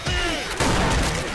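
Gunfire in Left 4 Dead 2 with a campaign zombie-shooting scene: dense overlapping shots in a close, loud burst that swells to a heavier volley halfway through, with a chaotic game mix underneath.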